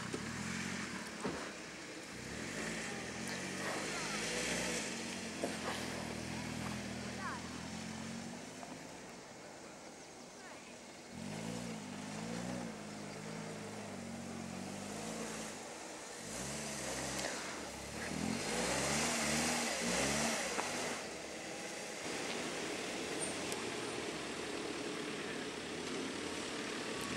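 A small car engine, a Nissan Micra K11, hums and shifts pitch as it drives in a car trial, gear changes audible, with some wind and road noise throughout.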